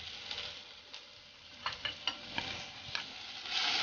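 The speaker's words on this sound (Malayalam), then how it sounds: "ഇനി അടുത്തതായിട്ട് അതിലേക്ക് ഒരു മീഡിയം സൈസിലുള്ള സവാള നല്ല കനം കുറച്ചരിഞ്ഞത് ചേർത്ത് കൊടുക്കാം." Thinly sliced medium onion with a pinch of salt sizzling in a pan for Kerala-style fish curry, a steady soft frying hiss broken by occasional crackles and brief stirring clicks, fairly quiet and close.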